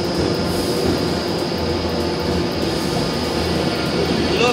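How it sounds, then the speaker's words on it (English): A Class 390 Pendolino train idles at a platform in Birmingham New Street station, giving a steady, loud mechanical hum and whine with faint ambient station noise throughout. "Now down at Birmingham New Street on platform 3, our train is already here."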